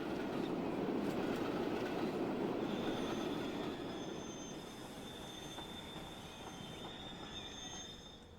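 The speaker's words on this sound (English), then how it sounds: "So, first train out is going to be 32 people on board there." Passenger train with 32 people aboard rolls along the track in Transport Fever 2, a steady loud rumble of wheels on rails with faint high squeal, easing slightly quieter partway through, no talk.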